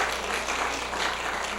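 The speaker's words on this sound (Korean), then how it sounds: "우리 박수로 한번" A church congregation applauds during a Sunday morning service, a continuous, even patter of many hands clapping across the room.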